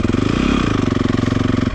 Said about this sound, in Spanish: Prenden su motocicleta. Y ahora sí, con confianza, embrague, listo, meten primera